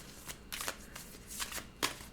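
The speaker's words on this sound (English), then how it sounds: "let's get a good shuffle" Cards being shuffled close up in quick papery riffles, several short bursts spaced unevenly, with no talking.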